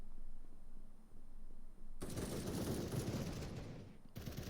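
Semi-automatic gunfire during a 4v4 tournament match in an online shooter, a dense, loud burst of rapid shots that starts abruptly and continues for a couple of seconds, with another burst at the end.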